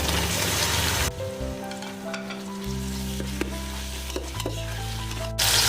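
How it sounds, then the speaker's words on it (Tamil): Onions with ginger-garlic paste sauté in a pan for fish biryani, a steady close sizzle with stirring scrapes and occasional pops throughout. "இப்போ நம்ம வெங்காயம் நம்மளுக்கு இஞ்சி பூண்டு பேஸ்ட்லாம் நல்லா வதங்கிடுச்சு."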